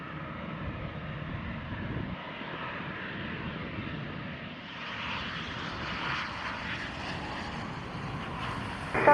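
A private jet lands on runway 21 at Scottsdale Executive airport, its engine noise a steady broadband roar with a whining upper band, swelling slightly in the second half and close throughout.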